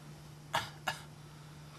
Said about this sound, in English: turn your head for me and cough